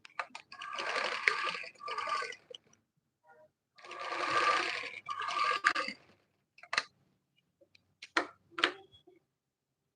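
A sewing machine stitching sleeve pieces together, running in several short bursts separated by pauses, then a few quick clicks and brief stitching runs near the end, close and clear.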